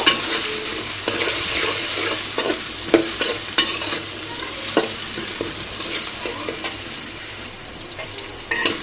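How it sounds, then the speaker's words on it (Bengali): A large cut potato fries in hot oil in a pan, giving a steady bright sizzle with scattered clinks and scraping taps as it is stirred, close and continuous throughout. "দিয়ে সুন্দর করে এইখানে তেলের মধ্যে ভেজে নিব।"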